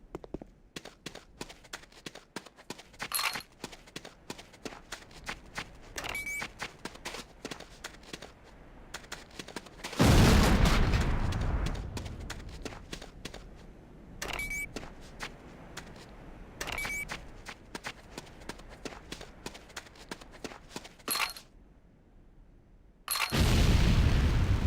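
Video game explosions from a detonated C4 charge: two loud, broadband blasts roughly thirteen seconds apart, each with a long rumbling tail, standing out over busy clicking and clattering background game noise.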